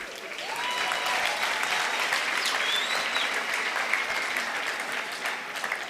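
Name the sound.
audience applause at a university graduation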